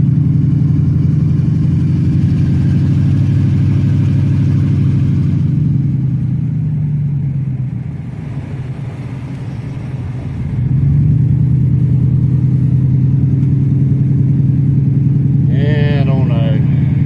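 Low rumbling idle of a truck engine running steadily nearby, dipping briefly mid-clip before settling back to a constant drone, with a short higher whine near the end.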